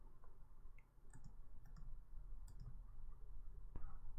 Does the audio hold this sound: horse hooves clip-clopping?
no